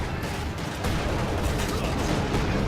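Heavy machine gun fire rattles in dense, continuous bursts during a Company of Heroes 2 Ardennes Assault battle, loud and layered with other gunfire and explosions, with voices shouting over it.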